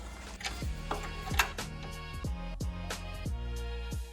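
Ratcheting clicks from a spanner tightening a 10mm bolt with a small washer on the bonnet strut bracket of a Ford Fiesta ST, a steady run of close, crisp ticks alone.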